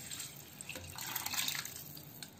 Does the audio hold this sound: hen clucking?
no